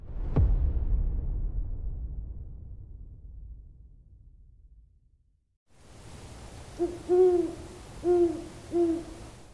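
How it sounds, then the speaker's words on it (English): Owls hoot in a quiet outdoor setting, with three or four close, wavering hoots in a rough rhythm after a faint fading rumble and a moment of silence. "Those sounded like owls."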